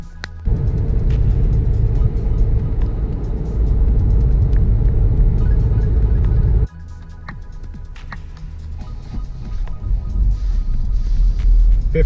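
A Volkswagen Alltrack drives on a cold winter road, its engine and tire rumble loud and steady throughout, dropping to a lower, quieter drone partway through before building again.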